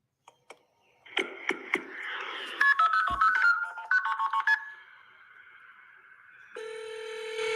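Touch-tone telephone dialing at the start of a recorded 911 emergency call: a few quick keypad beeps, then a run of clustered tones and a steady ringing tone near the end, fairly quiet and with no voices.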